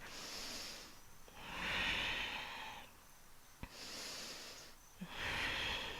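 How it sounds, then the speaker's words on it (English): Slow, deep yoga breaths outdoors, long airy inhales and exhales alternating in a steady rhythm, close and fairly soft, with a faint light tap between breaths. "Take a couple more breaths"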